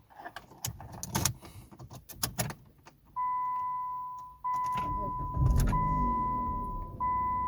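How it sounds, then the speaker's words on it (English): A 2008–2012 Jeep Liberty being started with its key: clicks and key jingles, then the starter cranks and the engine catches into a steady idle with a faint high whine, restarting briefly, with some talk early on. "Now push the brake pedal and start your vehicle using your working key."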